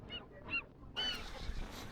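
Nesting seabirds on Alcatraz Island give a few short, harsh honking calls, moderately close and fairly faint, followed by a burst of wind noise and outdoor rumble.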